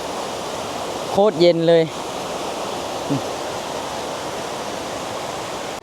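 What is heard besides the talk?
Kuang Si waterfall in Laos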